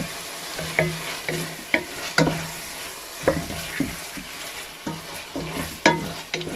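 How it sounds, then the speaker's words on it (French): Mushrooms sizzling in a hot pan as they are stirred, with a constant frying hiss broken by repeated scraping and knocking of the utensil against the pan, close by and with no speech. "Je vais rajouter mes champignons. Je rajoute les champignons."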